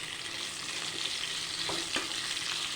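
Mango pickle mixture for homemade mango oil meets hot oil in a wok, giving a steady sizzle with a few soft stirring scrapes near the end.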